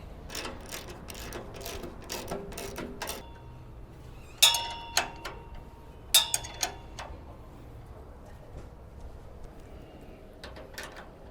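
Mounting bolts being tightened on an underbody water tank fitted to a Toyota Prado 150: bursts of rapid ratchet clicking, close and fairly quiet, with a few louder metallic clinks and pauses between runs.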